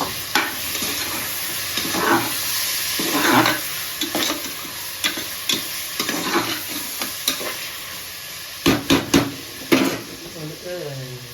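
Five tomatoes tipped into a hot pan for mutton biryani, frying with a steady sizzle while a spoon stirs and scrapes in repeated bursts, with clattering knocks of utensils against the pan near the end.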